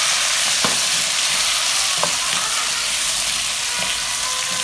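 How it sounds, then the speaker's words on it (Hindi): Mutton sizzles steadily in hot oil with browned onions and carrots for Kabuli pulao, a close, dense crackle with a few scraping stirs and no talk. "अब हम इसमें मटन डाल देते हैं और मटन डाल के इसके साथ हम फ्राई करेंगे"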